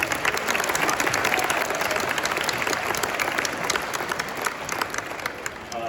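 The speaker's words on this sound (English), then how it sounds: "So give yourself a round of applause and everybody that does it" A crowd at a middle school spring concert applauds steadily for several seconds, a dense wash of clapping at moderate distance with no pauses.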